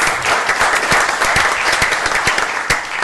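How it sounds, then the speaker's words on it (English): A city council meeting audience claps for a fourth-grade student, close, lively applause with distinct individual hand claps standing out against the steady crowd patter for about three seconds. "Let's give her a big round of applause."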